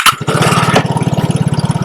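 A Vespa scooter's electric starter whirs briefly before the engine catches and settles into a close, steady rapid putter.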